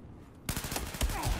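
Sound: gunfire in the video game Battlefield 4

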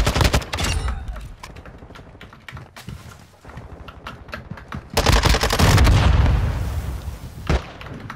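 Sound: gunfire in a video game

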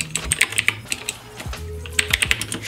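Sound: typing on a budget gaming keyboard

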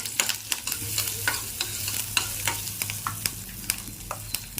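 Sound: mustard seeds and curry leaves frying in oil

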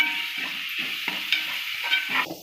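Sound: sautéing tomato in pan for crab gravy

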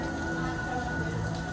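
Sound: rain falling during a Florida rainstorm

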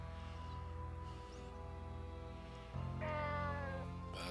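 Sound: cat meowing in the video game Nights of Azure

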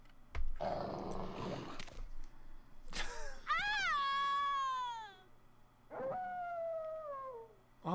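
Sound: dog howling in video game Resident Evil 2

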